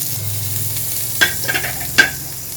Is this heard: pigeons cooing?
no